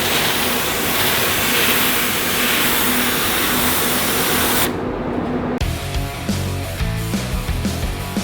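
Spray gun applying a light dusting coat of automotive paint onto spot repairs on a car body over epoxy primer, a steady loud hiss for about five seconds that cuts off, then quieter workshop clatter and handling sounds.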